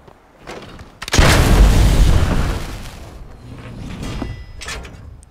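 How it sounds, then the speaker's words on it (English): A cannon fires in a video game with a single sudden, loud boom, followed by a rumbling, crumbling decay and a softer second burst near the end. "But I can use cannons."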